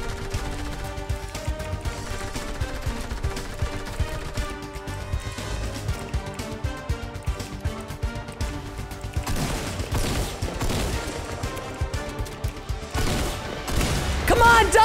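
Gunfire in the Fortnite video game, dense bursts of rapid shots fired repeatedly over nearly fifteen seconds, loud and close, with game effects mixed in and growing heavier toward the end.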